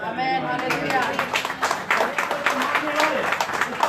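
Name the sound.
audience clapping at a prayer meeting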